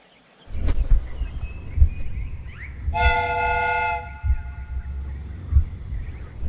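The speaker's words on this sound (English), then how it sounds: "The steam whistle is ready to be used." A steam train whistle in the Sherlock Holmes: Crimes and Punishments video game sounds one loud, steady, harmonic blast lasting about a second, over a low rumbling background of machinery.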